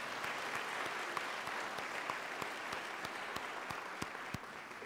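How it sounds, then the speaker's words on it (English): A church congregation at a Sunday gathering claps in steady, sustained applause with no one speaking. "let's give those guys a round of applause."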